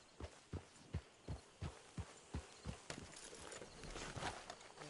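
In the video game Red Dead Online, a horse's hooves clip-clop in an even, steady rhythm of about a dozen close, distinct beats that blur into a softer shuffle toward the end.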